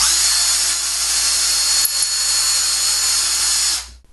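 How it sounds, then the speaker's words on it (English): A power drill bores a hole for a thread repair insert, giving a steady loud whine with a constant hum that runs unbroken for about four seconds, then stops abruptly. "we're going to be using a power drill."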